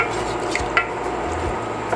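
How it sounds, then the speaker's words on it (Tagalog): A spoon stirs a coffee gelatin mixture laced with brandy in a pot, soft scraping swirls with a couple of light clinks against the metal, close and alone. "Hahaluin lang natin siya ng hahaluin."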